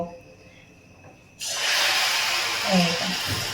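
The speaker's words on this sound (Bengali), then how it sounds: "তেলটা গরম হয়ে গেছে তো এবার আমি এখানে এক হাতা করে ব্যাটারটা দিয়ে দেব" Egg and flour batter ladled into hot oil in a wok, bursting into a loud, steady sizzling hiss after a quiet start, with a few brief voice murmurs underneath.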